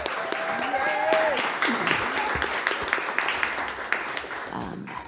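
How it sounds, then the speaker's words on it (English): Audience applause at a live radio show for Wright Gatewood, moderate clapping with scattered whoops that gradually fades, with a host talking over it. "how about one more round of applause for Wright Gatewood"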